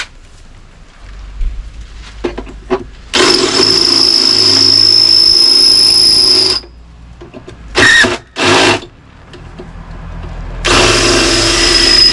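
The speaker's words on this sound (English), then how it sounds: "Bigger drill bit." A power drill drilling into the metal of a rusty Mk2 Ford Fiesta whirs loudly for several seconds, stops, gives a few short bursts, then runs again, close and steady between quiet gaps.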